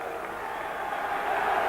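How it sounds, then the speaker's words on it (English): Boxing crowd applauding Frank Bruno after his win, a steady wash of clapping and cheering from a large arena audience that swells slightly toward the end. "and takes his applause"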